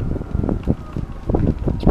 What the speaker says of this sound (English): It's proper windy today